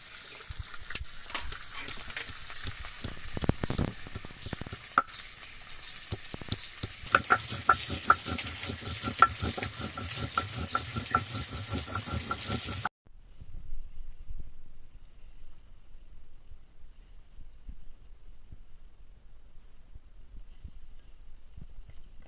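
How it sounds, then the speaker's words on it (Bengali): Fish frying in oil in a pan, a crackling sizzle of dense bursts and pops lasting about thirteen seconds, then dropping to near silence with only faint scattered sounds. "মাছগুলো এদিকে ভাজা হয়ে গেছে, এবার মাছগুলো তুলে নিচ্ছি।"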